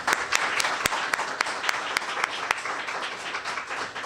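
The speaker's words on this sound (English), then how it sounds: "So I'd like to give them a round of applause" An audience applauds at a community launch celebration in Franklinton, Columbus, a dense, steady patter of many hands clapping with sharp individual claps standing out, sustained throughout.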